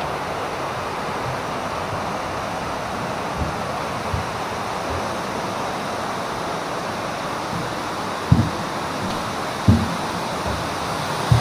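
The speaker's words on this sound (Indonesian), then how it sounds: "Ini sungai," A river flows beside a forest near an abandoned luxury house, a steady broadband rush of water running continuously, with a few soft knocks and thumps near the end.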